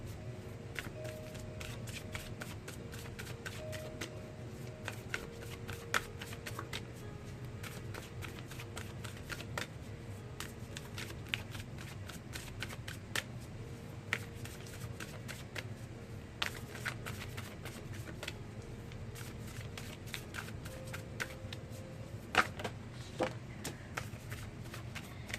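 Tarot cards being shuffled for a reading, a soft, continuous papery riffling and sliding with scattered crisp flicks, quiet and close, going on at length with no talking.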